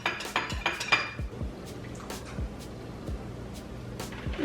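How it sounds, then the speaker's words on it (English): Cupcake batter eggs being mixed in a bowl with repeated clinks and scrapes of a utensil against the dish, close and moderately loud, with no talking. "mix the eggs together before you put them in the mix"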